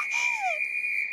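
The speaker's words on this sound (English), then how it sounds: "Old Rusty, loudest whistle in the world." An old whistle from a cartoon island adventure blown once, a very loud sustained shrill tone holding steady throughout, with a brief descending slide underneath at the start.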